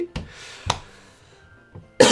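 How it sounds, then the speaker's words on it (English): Several sharp, harsh coughs, a pair early on, then a softer one and a loud burst at the end, with quiet pauses between. "you cough all the time, just so much coughing"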